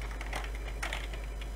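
Keystrokes on a computer keyboard while a command is entered at a command prompt: several light, irregular clicks over a steady low hum, close by and fairly quiet, with no talking.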